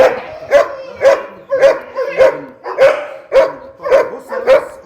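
A dog barks in a steady run of about nine loud, close barks spaced roughly half a second apart, with no talking over them.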